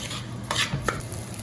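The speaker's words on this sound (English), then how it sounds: "I always saute it in butter or oil." Rice sautéed in butter or oil in a pan, a soft sizzle with a few scraping stirs and light utensil clicks, brief and close.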